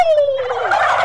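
A person uses a turkey call to imitate a loud, aggressive male turkey gobble, producing one brief, rattling, descending burst that is close and forceful.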